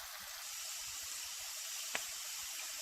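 Onions fry with whole garam masala for chana pulao, giving a steady, soft hiss and sizzle with a faint clink partway through.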